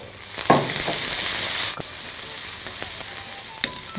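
Green chillies and ginger-garlic paste fry in hot oil, a loud burst of sizzling that settles into a steady hiss while a spoon scrapes and taps the pan a few times.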